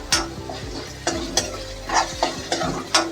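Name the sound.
ginger garlic paste frying in potato-moringa curry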